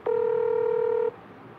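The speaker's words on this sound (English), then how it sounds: "let it ring one more time, see if it goes to voicemail" A single steady ringback tone on an outgoing phone call, about one second long, followed by quiet line hiss.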